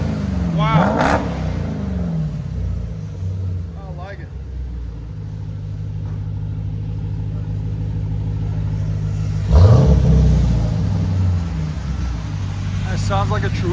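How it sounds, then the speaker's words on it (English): Supercharged 6.2L V8 exhaust on a Jeep Trackhawk, a steady deep idle rumble with a couple of short revs rising and falling, close by, while people talk over it. "Sounds like a true muscle car."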